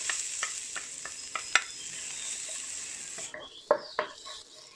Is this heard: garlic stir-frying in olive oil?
yes